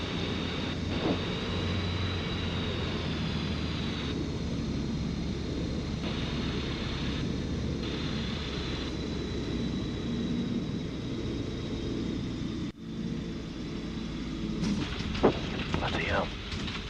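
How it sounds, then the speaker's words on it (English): Skyranger light aircraft landing on a short grass farm runway, a steady engine drone with wind roar heard from the cockpit throughout, with brief bumps and shifts near the end. "Here I'm landing at Brown Shutters Farm to meet a mate, and this is just classic Skyranger performance."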